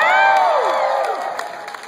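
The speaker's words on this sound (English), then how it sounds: "Would you please clap some more" Concert audience at a show cheering and whooping in a steady crowd roar that fades slowly, with a few bright whistles and shouts rising above it.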